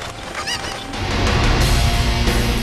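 Chickens flapping and squawking in a Zelda video game, a dense, loud flurry of fowl cries and clucks that swells and keeps going without any talk.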